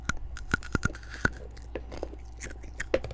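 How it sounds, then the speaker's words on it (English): Hard candy being crunched between the teeth gives a series of sharp, close crackling bites and smaller chewing clicks in an otherwise quiet room. "I crunched."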